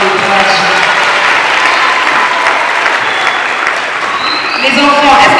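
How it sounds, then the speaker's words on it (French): An audience at a closing event in Brazzaville applauds steadily and loudly for several seconds, a dense wash of many hands clapping with a slight swell near the end. "j'aimerais que vous puissiez applaudir"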